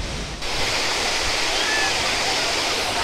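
Rushing water at Edamuri waterfall near Srirangapatna roars loud and constant after heavy rain, a dense close wash of sound with faint voices under it.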